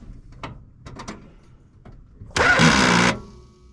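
A car engine cranks briefly with a loud burst of noise after some faint clicks and rustles, then cuts off.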